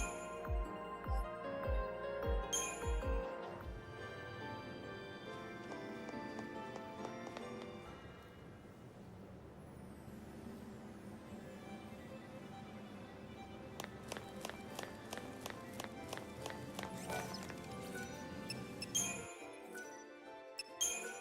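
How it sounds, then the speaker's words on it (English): A Final Fantasy XIII character's footsteps tap in quick regular clicks over game music, pausing mid-stretch and returning as a fast rhythmic patter near the end. "Footsteps sound a little weird."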